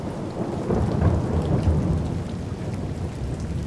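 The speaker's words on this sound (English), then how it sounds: "You can probably hear this. It's raining outside." Steady rain pours outside an open window, a dense continuous hiss with low thunder rumbling underneath, and no voices.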